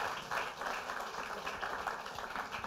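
Audience applause at a Wikimedia fellow programme presentation, steady crowd clapping heard at a low, somewhat distant level with an even, unbroken texture.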